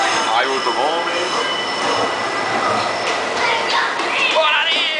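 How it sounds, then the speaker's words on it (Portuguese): A Cariri metro train in Ceará runs along its rails, a loud continuous rumble with squealing wheels and screeching metal, close by, with faint voices in the background. "Veja aí toda a extensão aqui do metrô."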